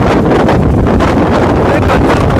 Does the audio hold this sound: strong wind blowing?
yes